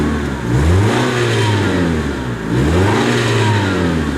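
1994 Mercury Tracer engine revving under the hood after an exhaust leak fix, two rising-and-falling revs from idle, close and loud with a smooth mid-pitched drone.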